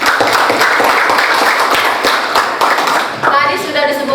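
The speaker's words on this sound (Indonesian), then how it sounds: "Tepuk tangan dulu untuk Firman." Classroom applause from students for a classmate during an Indonesian lesson, a dense burst of clapping lasting about three seconds that fades as a voice speaks over it.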